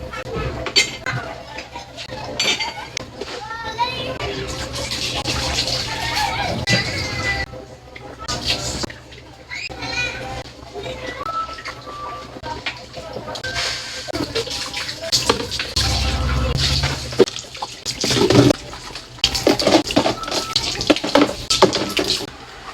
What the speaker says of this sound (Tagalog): naghugas na muna ako ng mga ginamit ko para hindi matambak yung hugasin